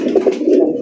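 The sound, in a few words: Bombay pigeons cooing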